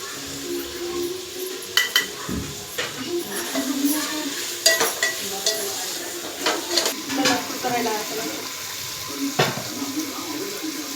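Hot water poured into a simmering village-style chicken curry, a splashy pour with stirring and clinks of utensils against the pot, close and fairly loud.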